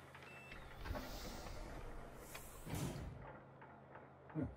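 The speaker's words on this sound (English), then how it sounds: "Yep, the emergency door closed." An emergency door in the South Park video game slides shut with a few dull mechanical thuds and clunks, the loudest landing at the very end, over a steady low hum.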